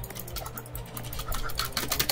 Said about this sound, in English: My keyboard is so very loud.